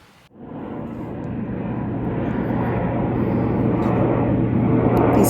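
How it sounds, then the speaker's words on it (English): Airplanes pass low over a residential neighborhood under the flight path, a steady broadband engine roar swelling gradually louder and nearer throughout, with no talking. "These airplanes, they just never quit in this neighborhood"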